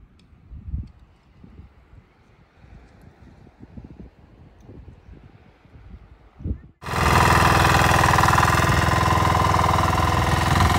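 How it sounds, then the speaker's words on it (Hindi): A tractor works a potato field on a farm, first faint and distant under outdoor wind, then a loud, close, steady engine roar that fills the rest of the clip. "ये हमारे खेत में आलू के लिए ट्रैक्टर चल रहा।"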